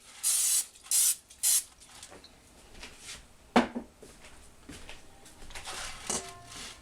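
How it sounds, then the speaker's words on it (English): Three short bursts of cooking oil spray hiss close by onto an 8x8 baking pan, followed by quieter handling clatter and a faint voice. "Going to give our 8x8 baking sheet a light spray."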